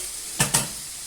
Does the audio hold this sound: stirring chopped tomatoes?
yes